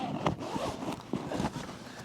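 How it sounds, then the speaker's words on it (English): A heavy-duty double zipper on a pop-top camper cap tent (Snap Outfitters Treehouse) is drawn along in a few quick, close rasping pulls over a quiet outdoor background. "Now this is another double zipper, and it goes to the outside"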